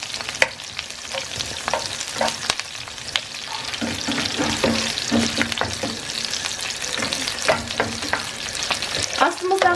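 Red pepper, onion and spices are stir-fried in oil over a high gas flame for Xinjiang da pan ji, giving a continuous close sizzle broken by repeated scraping strokes of the stirring utensil.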